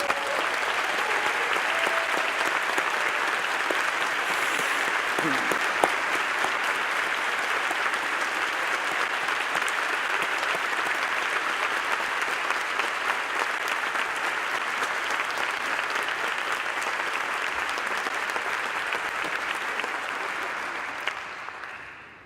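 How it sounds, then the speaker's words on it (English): Sustained applause from a large audience at a public leadership awards event, a dense, even roar of clapping lasting over twenty seconds at moderate distance before tapering off at the very end. "please stand up and let's recognize them with a round of applause"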